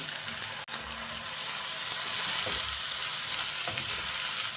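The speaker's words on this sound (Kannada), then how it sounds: "ಈಗ ಇದನ್ನು ಚೆನ್ನಾಗಿ 1 ನಿಮಿಷ ಕುದಿಯೋದಕ್ಕೆ ಬಿಡೋಣ" Ground drumstick-leaf paste bubbling in a pan, a steady soft sizzle and simmer with one sharp click early on, no talking.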